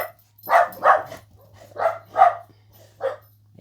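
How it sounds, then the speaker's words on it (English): Several dogs barking in a series of sharp, separate barks with short gaps, fairly close and moderately loud, with a low steady hum underneath and no talking. "And there are my dogs."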